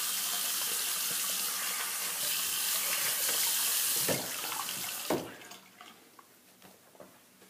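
A bathroom sink tap runs steadily for a face wash, a close, even rush of water that cuts off around five seconds in, leaving a few faint drips and splashes with no one talking.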